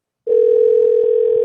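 Telephone line dial tone that starts abruptly after a brief silence and holds as a loud, steady, unbroken electronic hum heard close and alone.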